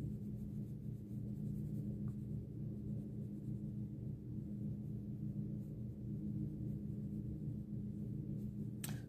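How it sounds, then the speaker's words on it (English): A pencil draws lines on paper for a portrait, a soft scratchy sound that is faint and continuous under a steady low hum of room noise. "we'll just basically draw in some lines a little darker."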